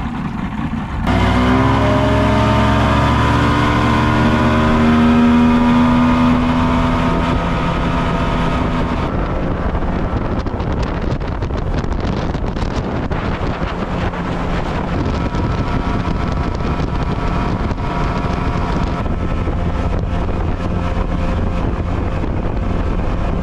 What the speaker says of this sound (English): Motor runs really good. We actually got it up to 44 miles an hour.